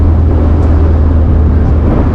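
Renner Auto Speedster, a car with a tight five-speed billet gear shifter, gives a steady loud engine drone with strong low rumble while gears are changed, continuous and close with no talk.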